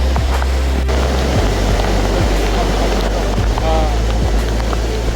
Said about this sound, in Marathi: इकडे धबधबा तुम्ही बघू शकता.